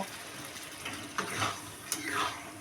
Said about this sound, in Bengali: এই জলটা দিয়ে আমি ভালো করে মাছটা নাড়াচাড়া করে ঢাকা দিয়ে দেবো